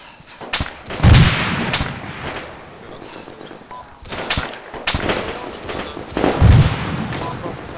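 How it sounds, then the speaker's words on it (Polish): Gunfire in the Arma 3 military shooter, heard as rapid bursts of rifle and automatic fire with two heavier booming shots, loud and continuous over a rumbling battlefield background. "Są strzały."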